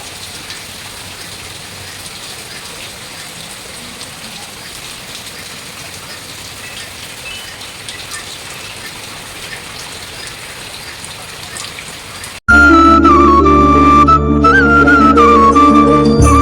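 Heavy rain pours down in a dense, steady roar that is loud and constant. After about twelve seconds it cuts off abruptly and is replaced by a different, tonal sound.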